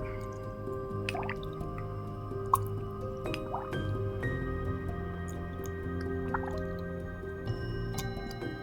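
Water is poured into a CA Bloom cell-activator mixture, making soft dripping and squishy liquid sounds over steady tonal background music, with no speech.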